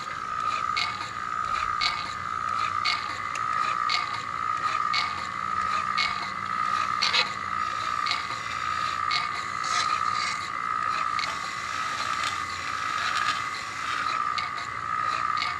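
Wobbling gears of a 3D printed robot turning continuously, a steady mechanical whine with a rapid ratcheting clatter that rises and falls in pressure, close and even throughout.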